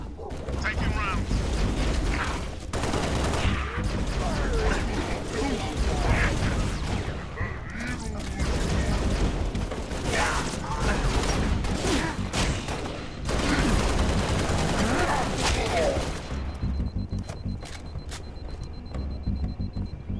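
Sustained video-game gunfire from a Halo Reach battle, with dense rapid bursts and shots filling the whole stretch at close, loud range, plus brief radio-style voices heard between volleys.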